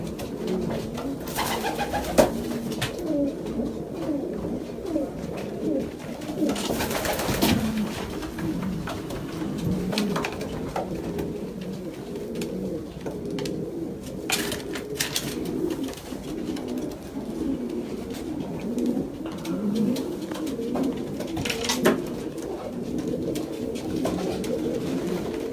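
Pigeons coo continuously, several birds overlapping in soft, throaty murmurs, with occasional wing flutters and brief clatters nearby.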